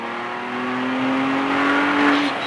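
A race car engine is heard up close, its steady, buzzing note climbing slightly before cutting off abruptly near the end, as if braking and downshifting into a turn. No one speaks.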